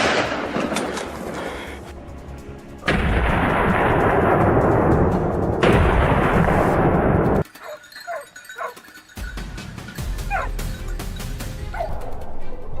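A single gunshot aimed at a wild boar at the foot of a hill near farmland, a loud sharp report breaking through steady wind-like noise, followed by quieter scattered rustles and brief faint cries.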